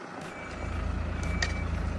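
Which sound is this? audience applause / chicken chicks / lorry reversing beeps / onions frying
lorry reversing beeps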